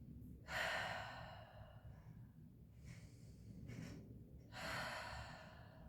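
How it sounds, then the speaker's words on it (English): Deep yoga breaths in a quiet room, three slow rounds of breathing: long airy inhales and exhales, close and soft, with pauses between and no talking. "3 big rounds of breath."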